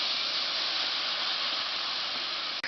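Spice paste of soaked cumin and coriander powder frying in a pan, giving a steady, bright hiss that carries on evenly with no pause.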